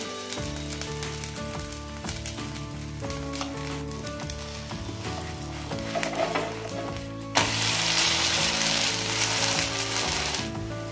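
Sabudana thalipeeth sizzles steadily in a pan with desi ghee, a continuous crackling fry that swells louder and hissier near the end as more ghee hits the hot pan; no talking.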